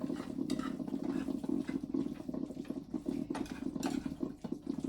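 A spoon scrapes and stirs sausage through thick gravy in a pan, with soft wet squelching and occasional clinks, close and steady.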